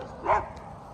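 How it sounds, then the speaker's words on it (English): A dog gives a single short bark, moderately near, with faint ambient noise around it and no other barking. "Like these dogs would kill me given the chance."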